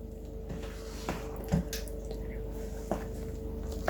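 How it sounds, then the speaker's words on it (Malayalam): Cake batter for a rainbow cake, with beaten eggs and flour, being mixed, giving soft, wet squishing and occasional light knocks over a steady low background hum. "ഇതെല്ലാം നല്ലതായിട്ടൊന്ന് മിക്സ് ചെയ്ത് കൊടുക്കാം."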